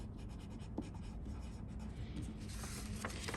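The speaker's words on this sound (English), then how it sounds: "we're also going to write our name, class," Pencil writing a name, class and number on paper, steady scratchy strokes with small pauses running continuously and close, quiet and alone.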